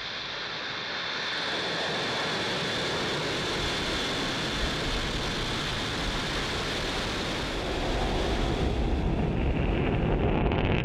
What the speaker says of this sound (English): 0. Liftoff.